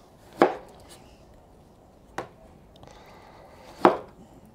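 Three sharp knife chops slicing firm quince on a board, spaced a second or two apart, loud and close against a quiet room.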